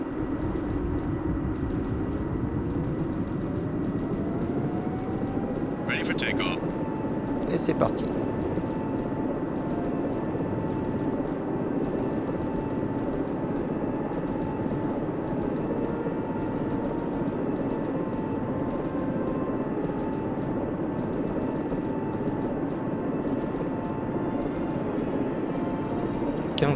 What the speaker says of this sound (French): Démarrage des turbines.